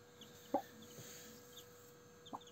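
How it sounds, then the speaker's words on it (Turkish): A hen in a coop with newly hatched chicks gives a few faint, soft clucks, spaced out as single short notes against a quiet background, with no talking. "İki tane güzel civcivimiz var."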